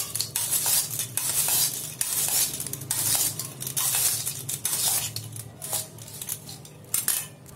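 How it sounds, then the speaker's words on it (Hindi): Boiled potatoes, pomegranate seeds and lemon being mixed in a bowl, with close scraping and clinking of a spoon against the dish in irregular bursts, moderately loud, with no talking. "तो हमने आलू डाला, अनार के दाने, थोड़ा सा लेमन, इसको हम मिक्स करेंगे।"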